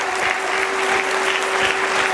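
Steady, dense applause from a congregation at a Catholic Cristo Rey retreat, sustained clapping filling the room with a faint tone underneath.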